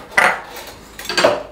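A spoon scrapes and clinks against a pan or tray while spreading fried tomato over puff pastry mini pizzas, two short bursts of scraping close by with no talk.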